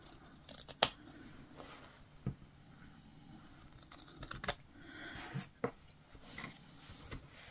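Sharp scissors cut off fabric corners in a sewing project, giving crisp, close snips spread irregularly over several seconds with quiet handling in between and no talking.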